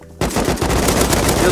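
Rapid automatic AK rifle fire in the online survival game Rust bursts in loud and sustained after a brief quiet moment, a continuous rattling volley of shots.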